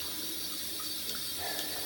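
Water from a bidet beside a toilet runs in a steady, faint, hissing stream throughout, with no voices.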